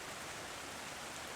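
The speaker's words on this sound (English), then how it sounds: "Everything was silent as the rain continued to pour down." Heavy rain pours down steadily in a dense, even hiss with a low rumble beneath, no voices and no breaks.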